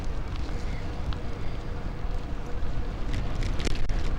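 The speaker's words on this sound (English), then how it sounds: "it's quite windy just here" Wind blowing by the River Trent while cycling, a loud continuous rumbling buffet across the microphone, steady throughout with slight gusts toward the end.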